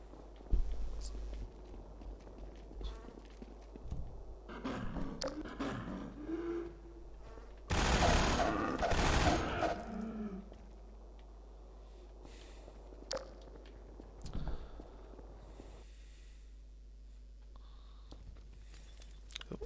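Automatic turrets fire on zombies in Half-Life 2: a loud burst of rapid gunfire lasts about two seconds in the middle, with sparse, quieter game sounds before and after.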